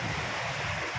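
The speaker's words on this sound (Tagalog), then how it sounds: "ang sarap na pakinggan ng alon, no, ng ating karagatan" Strong ocean waves wash in along Manila Bay, a dense, continuous roar of surf mixed with wind buffeting the microphone, loud and close throughout.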